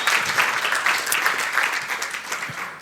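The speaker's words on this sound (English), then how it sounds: "Let's give him a round of applause." Many hands clap in steady applause at the IglooConf 2020 tech conference, a moderately loud, dense patter that gradually thins and fades toward the end.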